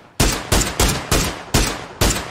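Rapid gunfire from the video game PUBG on the Miramar desert map: six or seven loud, sharp shots in a quick regular rhythm, each snapping in close and decaying fast, with no talk over them.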